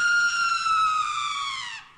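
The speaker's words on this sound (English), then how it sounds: "Yeah, it's a girl scream." A short girl's scream effect from RPG Maker MV: one sustained, piercing, high-pitched cry that holds loud and then slides downward as it fades, heard alone.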